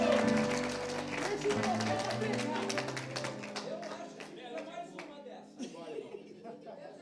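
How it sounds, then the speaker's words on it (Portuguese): Applause swells at an evening church service in Orlando, a dense wash of clapping across the congregation that stays loud for several seconds, then thins out under music and a voice. "Dá um forte aplauso aí, se é saideira"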